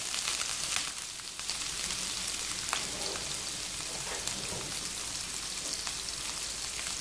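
Onion rings frying in oil in a pan for a chicken, pea and artichoke stew, a steady, dense sizzle and crackle that fills the whole stretch, close and even with no voices.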